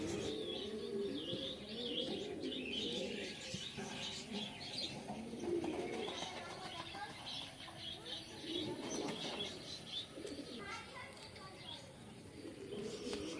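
Madras pigeons, one red-eyed, and a Malbai pigeon in a village loft, giving soft cooing and scattered chirps, with wing flutters now and then, under near, steady talking in Bengali.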